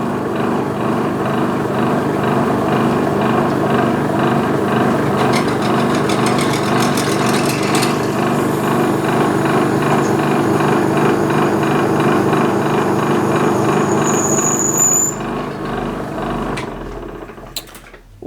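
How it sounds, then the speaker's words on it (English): A belt-driven Goodell-Pratt drill press reams at its slowest speed, giving a steady, loud mechanical drone with a busy rattling texture that holds for about fifteen seconds before spinning down. "got the reamer in, and I've slowed the drill right down as slow as it will go"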